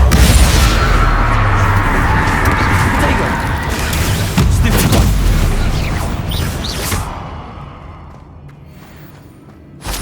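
A Confringo fire spell going off in the Hogwarts Legacy video game, a loud booming blast with whooshing and crashing debris that swells early, then fades to a quieter rumble before a final thump.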